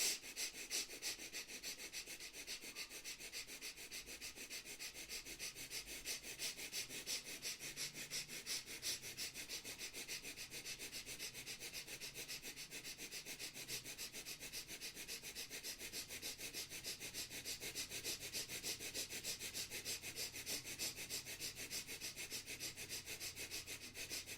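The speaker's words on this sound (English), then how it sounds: "start breathing through both the nostrils, quick and fast, quick short breath" Quick, short breaths drawn rapidly through both nostrils as a breathing exercise, a fast, even run of sniffing puffs that repeats steadily throughout, close and fairly soft, with no talking.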